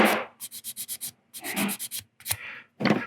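Sandpaper of 180 grit is scrubbed across a resin model part in quick bursts of short back-and-forth strokes, a run of six, a pause, a run of five, then a few scattered rubs, all close and clear.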